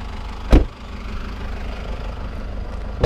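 Peugeot 106 S16 engine idling with a steady low rumble, interrupted by one brief loud knock near the start and another at the end.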